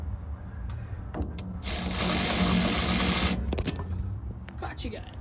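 A ratchet tightens bolts under a diesel pump, giving a sustained, close run of fast clicking for about two seconds with shorter click bursts around it, and someone talking.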